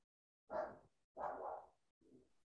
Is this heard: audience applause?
no